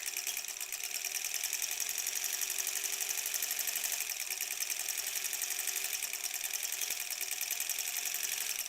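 A sewing machine stitches quilt fabric during improv curve piecing, running in one steady, fast, even whir for the whole stretch, close and moderately loud with no talking.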